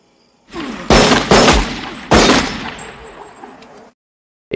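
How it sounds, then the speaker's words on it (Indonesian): Gunfire in a prison drama film scene: three loud, sharp shots in quick succession, each with a long echoing tail fading into silence, with no talk. "Tak lama kemudian, Haley pun langsung menembak Tommy hingga Tommy pun meninggoy."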